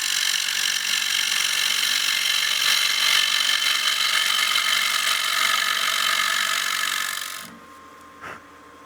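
A wood lathe turns a bowl against an Easy Wood Tools cutter, giving a steady, loud, close scraping rasp that holds for about seven seconds, then cuts off, leaving near silence and one brief knock.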